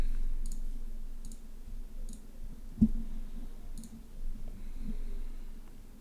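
Faint, sparse computer mouse clicks, about five spaced roughly a second apart, tap quietly over a low background hum, with one slightly louder bump partway through.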